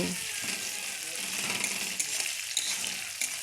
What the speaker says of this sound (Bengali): কড়াইতে তেল দিয়ে তেলটাকে গরম করে নিয়েছি তারপরে কলাইয়ের ডাল দিয়ে ভালোভাবে ভেজে নিয়েছি